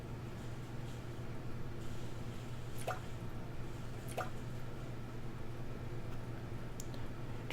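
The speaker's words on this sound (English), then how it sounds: "Drip, drip. The sound of falling drops." Water drops falling one at a time in a horror-style setting: a few sparse, sharp drips spaced seconds apart over a low steady hum.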